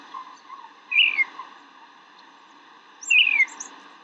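Birds chirp inside a house in the video game Reflections, two short bright bursts of chirping about two seconds apart over a faint steady background hum.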